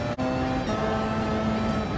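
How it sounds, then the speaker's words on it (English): Toyota race car engine in Gran Turismo 7 during a Le Mans 24 Hour race, a steady loud drone with a sustained tone that shifts pitch once partway through, heard alone without talk. "I think that might be the Toyota in front by the sound of that engine"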